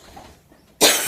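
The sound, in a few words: cough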